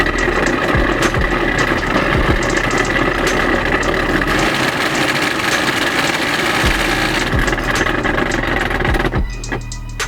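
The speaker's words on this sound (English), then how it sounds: "the blower motor bearings are completely shot" The heater blower motor of a BMW E30 runs on its highest setting with worn-out bearings, a steady loud whirring drone with a gritty mechanical edge that carries on unbroken, then it cuts out abruptly near the end.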